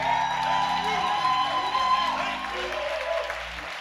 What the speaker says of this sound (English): I think we should applaud him one more time.